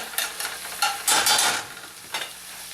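Wine-braised riblets cook down in a pan, giving soft bursts of sizzling and stirring scrapes, with a louder sizzle swell in the middle and no talking.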